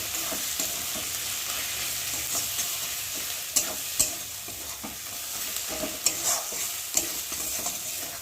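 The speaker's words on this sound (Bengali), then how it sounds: "আজকে ভালো করে তেলের মধ্যে ভেজে নিই।" Chicken fries in oil with salt and turmeric, a constant close sizzle broken by several sharp clicks and scrapes of a spatula stirring the pan, with no talking.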